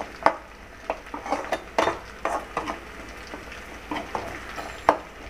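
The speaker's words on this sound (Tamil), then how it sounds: "வெங்காயமும் பூண்டும் நல்லா வதங்கட்டும்" Onion and garlic sautéing in a pan for a green turkey berry kuzhambu: a low sizzle with scattered light clinks and scrapes of a spoon stirring, close and moderately quiet, no talk.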